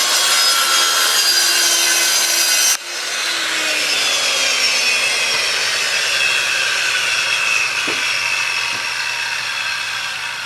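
A circular saw with a guide accessory trims a thin eighth-inch strip of wood, producing a loud whining cut that drops off sharply near the start, then a lower continuing saw whine as the blade spins down with faint knocks.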